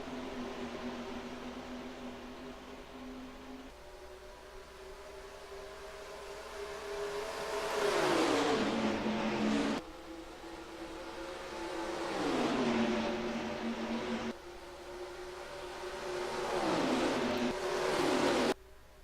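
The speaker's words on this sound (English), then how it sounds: "Gardner steps on the gas and we're racing at Auto Club." Race cars at Auto Club Speedway in NASCAR Racing 2003 roar and accelerate on a green-flag start, engine drones rising in repeated sweeps and dropping as cars pass, loud and continuous with no talk.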